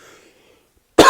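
After near silence with a faint trace of voice, a single sharp, loud cough bursts out close to the microphone on a sports talk show.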